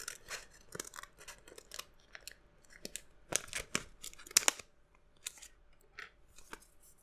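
Scissors snipping through PSP thumbstick packaging in quiet, close-up bursts, with crinkling and tearing plastic between cuts, louder clusters of snips in the middle.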